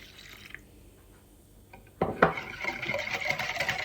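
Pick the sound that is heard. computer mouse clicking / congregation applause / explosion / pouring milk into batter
pouring milk into batter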